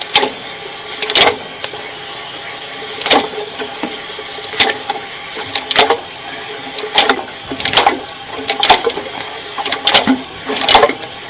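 Water runs and trickles through a sewer pipe during a camera inspection, a steady hiss broken by sharp irregular splashes and knocks, fairly close and without voices.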